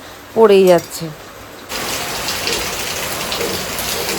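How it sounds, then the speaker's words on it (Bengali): A short voice is heard at first, then a steady patter of rain takes over, dripping through a leaky roof and splashing close by on a hard surface, wetting a cooking stove. "দেখো তো কি হারে টপ টপ টপ টপ করে বৃষ্টি পড়েই যাচ্ছে"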